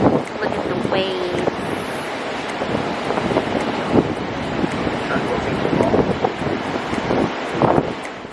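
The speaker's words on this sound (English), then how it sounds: "Look at the waves." Ocean waves wash ashore on a cold beach, a continuous rushing surf buffeted by strong wind noise on the microphone, with a few louder swells breaking and no talking.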